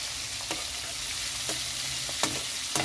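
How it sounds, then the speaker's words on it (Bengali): Prawns lightly frying in a pan, a steady close sizzle with a few sharp stirring clicks and taps. "চিংড়ি মাছটা হালকা ভেজে নেব, বেশি ভাজলে শক্ত হয়ে যায়"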